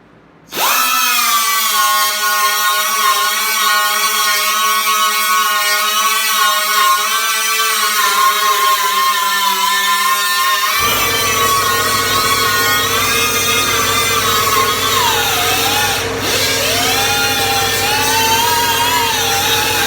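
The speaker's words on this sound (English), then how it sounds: "grind it all the way down to both metal pieces" Grinder grinding metal on a C10 truck build, starting up with a loud high whine that holds steady, then drops in pitch and roughens as it bites into the metal, continuous and close.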